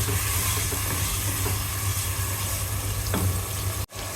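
Half a cup of yogurt frying in a pan for chicken achar gosht, giving a steady close sizzle and hiss with a few faint clinks, briefly cut near the end.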